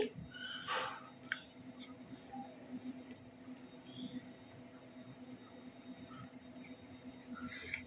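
A pen or pencil writes the digit six by hand during a fourth-grade maths lesson, making quiet, short scratchy strokes early on, followed by faint scraping and soft ticks against a hushed room.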